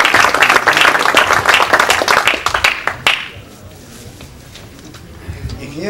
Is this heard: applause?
yes